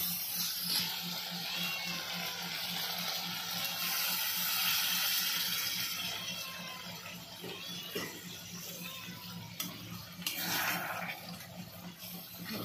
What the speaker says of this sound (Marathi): आता याच्यात आहे ना एक कपभर थोडंसं पाणी टाकूया